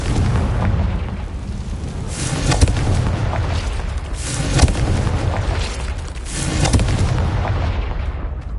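Repeated Confringo fire spell explosions in the video game Hogwarts Legacy on PS5, a loud rumbling barrage of booms and bursts, several blasts swelling every couple of seconds over continuous low roar.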